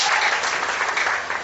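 A church congregation breaks into a short, full burst of applause that fills the room and fades slightly at the end.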